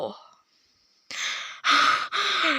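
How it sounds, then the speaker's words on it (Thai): Heavy, out-of-breath breathing: a short breath at the start, a quiet pause, then three loud, close gasping exhalations in quick succession. "โอ้โห หายใจแทบไม่ทัน"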